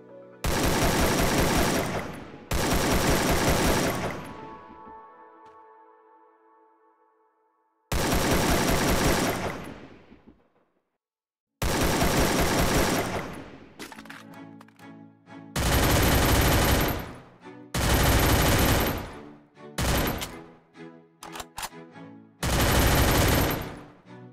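Loud bursts of high-recoil weapon fire in the Free Fire mobile shooter game, several rapid volleys separated by short pauses, with a ringing tonal tail after the first bursts; no voices.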